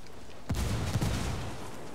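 A frag grenade goes off in Ghost Recon Wildlands ranked PvP: one sudden, booming blast followed by a second thump half a second later. A rumbling tail lingers briefly afterwards.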